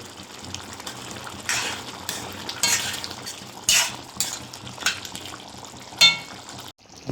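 Garam masala being added and stirred into a mango mutton curry in a pan: a steady sizzle with repeated scraping stirs, several louder strokes spaced a second or so apart.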